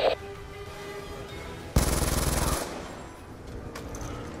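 Gunfire from a gun in the video game Black Ops 2: one loud, close burst of about a second with rapid repeated reports, then quieter game ambience and a few faint later sounds.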